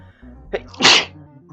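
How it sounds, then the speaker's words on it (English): A single close, sharp human sneeze bursts out after a short indrawn breath, loud and abrupt against a quiet background with no talk. "Predicted that sneeze."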